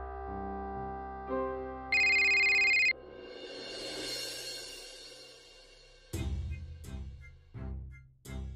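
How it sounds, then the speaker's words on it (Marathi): A phone ringtone plays in repeated electronic tones, fairly close, followed by several sharp knocking or tapping sounds. "उचल ना फोन. अरे ती परत सारखा फोन करतेय."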